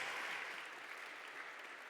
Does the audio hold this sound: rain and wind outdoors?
no